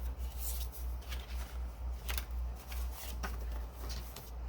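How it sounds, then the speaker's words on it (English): Bone folder strokes creasing folded paper pages for a mini journal, a run of short dry rasping swipes and papery scrapes at close range, with a steady low hum beneath and no talking. "I'm going to fold them all and use my bone folder to create that crease"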